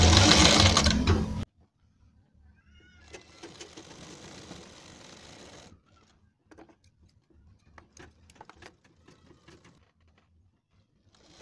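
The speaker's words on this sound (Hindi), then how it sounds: "यहाँ अपने सेंटर में एक सिलाई लगा देंगे इसको रोकने के लिए" An electric sewing machine stitching a half-collar neck piece runs in a short loud burst, then carries on as a softer steady whir, followed by scattered light mechanical clicks and handling taps.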